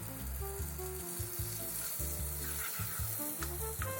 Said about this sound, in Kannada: ಸ್ಟವ್ ಆನ್ ಮಾಡಿ ಪ್ಯಾನ್ ಇಟ್ಟು ಗಾರ್ಲಿಕ್ ಬಟರ್ ಹಾಕಿ ಅದು ಮೆಲ್ಟ್ ಆಗೋವರೆಗೂ ವೆಯ್ಟ್ ಮಾಡಿ